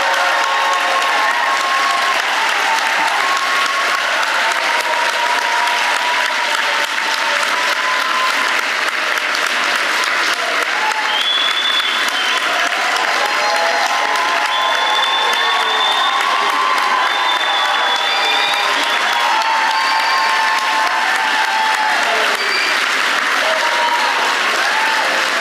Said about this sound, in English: Let's give them all a really strong round of applause.